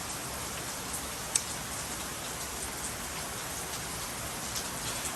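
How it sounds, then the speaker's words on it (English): Steady rain falls and patters on surfaces, an even, close hiss of drops with a single brief tap partway through and no voices. "And as you can see, it's raining."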